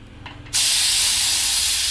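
A pressure cooker boiling goat trotters for soup suddenly releases its whistle, a loud continuous hiss of escaping steam that starts after a brief quiet moment and carries on steadily.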